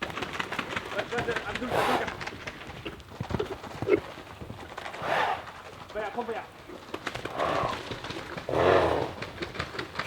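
Hooves clip-clop on hard ground at horse stables in Kuwait among outdoor chatter, with birds calling faintly and a brown male horse close by.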